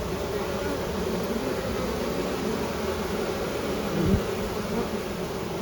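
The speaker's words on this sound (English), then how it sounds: "But there's still a lot of bees in the back." Honeybees being installed into a hive box, a steady dense buzzing drone from many insects close by, with a brief low knock partway through.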